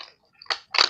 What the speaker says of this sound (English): I'm sorry about the crunching here, but that's the sound of opening toys.